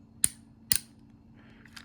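Two sharp metallic clicks from the hammer and cylinder of a replica Colt 1851 or 1860 percussion revolver, about half a second apart, crisp and close in a quiet room, followed by a faint softer tick.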